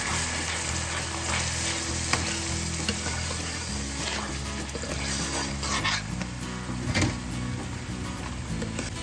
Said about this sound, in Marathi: आता याला आपल्याला छान तेल सुटेपर्यंत परतून घ्यायचं